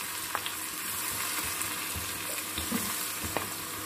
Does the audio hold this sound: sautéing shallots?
yes